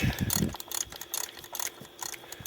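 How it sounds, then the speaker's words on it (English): A ratchet and socket unthread an oil pressure sensor on a 2012 Dodge Durango 3.6 L V6, giving a run of quick, close clicking bursts with brief pauses between strokes. "So I was able to get a socket on there and a ratchet, and I got it broke loose."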